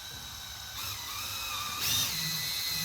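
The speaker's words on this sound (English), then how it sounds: "Take your drill bit that you just used," An electric drill bores a quick hole during a Stage 6 audio kit install on a 2022+ BMW K16, with a steady high whir that rises in pitch as the bit bites, close and alone without talk.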